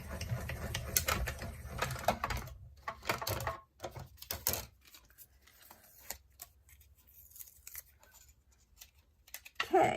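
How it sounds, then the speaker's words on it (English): Hand crank turning a die-cutting machine as paper on a cutting mat rolls through for Christmas card making: quiet, uneven clicking and rasping textures, busier at first, then sparse and faint before a last burst. "I'm just going to crank this through"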